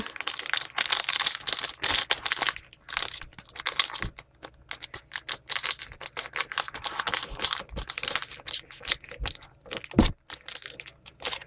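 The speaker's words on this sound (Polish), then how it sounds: "paka szybko, nożyczkami otworzę go, żeby nie było czekania." A package is cut open with scissors, with dense bursts of crisp plastic crinkling and crackling, sharp snips and small knocks, heard close and fairly loud with no talking.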